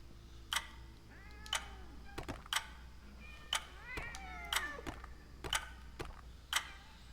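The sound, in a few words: angry cat meowing in the video game Sense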